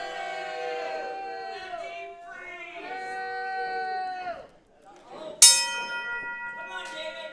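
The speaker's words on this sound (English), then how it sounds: "the bell has sounded" A ring bell clangs once at a small-promotion professional wrestling show, a bright metallic strike with a long ringing decay, heard over crowd chatter and tonal background voices.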